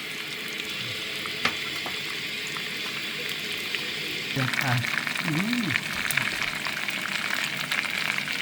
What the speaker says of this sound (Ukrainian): А тут ще котлетки смажу.